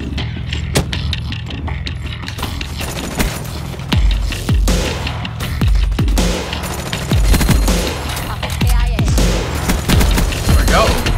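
Rapid gunfire bursts and a grenade explosion in Call of Duty Black Ops 3 multiplayer, with loud repeated shots and heavy booms.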